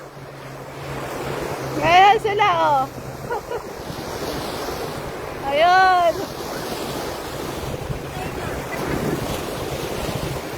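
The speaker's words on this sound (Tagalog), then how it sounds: "Ang ganda ng dagat dito sa Dubai." Sea surf washing onto a white-sand beach in Dubai at sunset, a steady wind-blown roar of waves throughout, with people talking and exclaiming over it.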